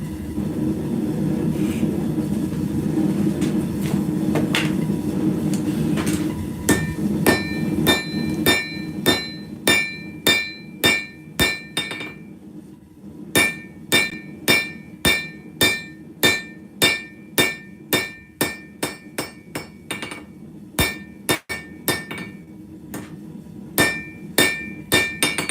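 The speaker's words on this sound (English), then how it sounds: "Because we're still forging it all together, making it bond good and hard." Hammer blows forging cable Damascus steel ring out in a steady run of sharp, loud metallic strikes, regularly spaced and close, with no talking.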